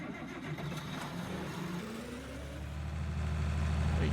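An International tractor engine idles in Farming Simulator 19 with a steady mid-pitched rumble that slowly swells toward the end, running continuously in the background.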